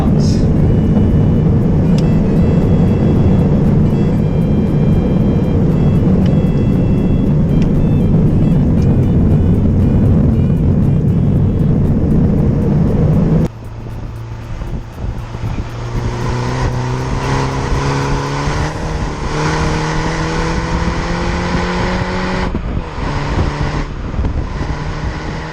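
A Mini Cooper S R56 JCW driven hard on an open road, a loud steady engine and wind roar that drops abruptly, then rises again with climbing revs as it accelerates through gears.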